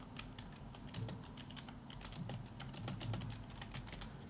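Quick, light clicking of fingers typing on a computer keyboard, a short faint burst of keystrokes in an otherwise quiet room.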